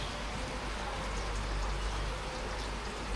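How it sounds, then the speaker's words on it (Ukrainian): Heavy rain falls outside in a dense, steady wash of patter and hiss. It continues unbroken, with no voices. "Сильний дощ"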